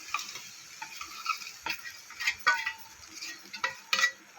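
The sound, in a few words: jaggery stirred into ghee in a kadhai on the gas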